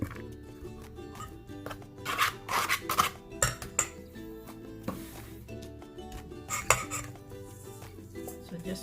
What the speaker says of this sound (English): all we need to do is to mix it up